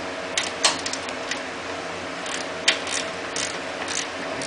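Sparse, close ratchet clicks come in short bursts as a nut is snugged up on a Honda CT90, over a faint steady background hiss.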